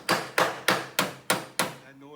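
Six evenly spaced metallic hammer-and-dolly taps ring out on a car body panel, each sharp strike followed by a short decaying ring, close and clear with no talking.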